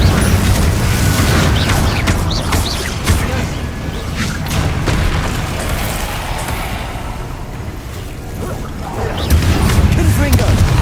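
Confringo blasting spell explosions in Hogwarts Legacy, heavy booms and crashing blasts layered over a continuous loud roar of battle, with intensity dipping briefly midway before surging again.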